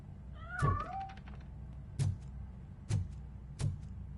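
Cat meowing in the video game RoboCop: Rogue City: one faint, wavering meow early on, followed by three dull thunks spaced about a second apart over a low ambient hum, with no speech.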